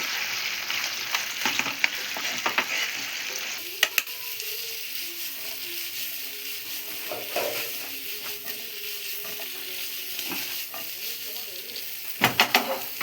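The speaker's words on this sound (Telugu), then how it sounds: "చికెన్ కూడా వేసుకొని మంచిగా మిక్స్ చేసుకోవాలి" Chicken majestic is tossed with sauces in a hot pan, giving a bright sizzling hiss broken by sharp clanks and scrapes of the spatula, with a burst of metallic knocks near the end.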